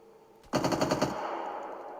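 An airsoft replica RPD machine gun rips off one loud, rapid burst of shots lasting under a second during an outdoor airsoft game, followed by a lingering echo and tail.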